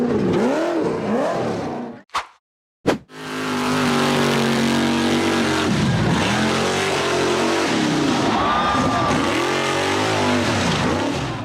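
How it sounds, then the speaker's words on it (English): A black and white checkered off-road buggy engine revs hard and loud as it claws up a steep dirt slope, with sustained roaring acceleration, a brief cutout, then renewed straining revs. "The black and white checkered buggy accelerated hard up a steep dirt slope."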